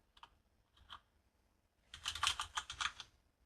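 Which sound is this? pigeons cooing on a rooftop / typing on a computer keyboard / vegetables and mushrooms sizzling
typing on a computer keyboard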